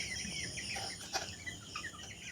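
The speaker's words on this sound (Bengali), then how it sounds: "ঘাড়ে লোম থাকে না এই মুরগিগুলো" Naked-neck chickens on a farm cluck softly and intermittently, faint and fairly close, over a low steady background hum, with no one talking.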